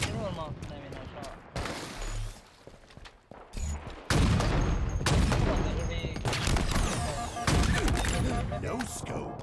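Sniper rifle shots ring out in a ranked online shooter match, with sharp, loud gunfire cracks and overlapping in-game explosions and impacts, under excited player chatter.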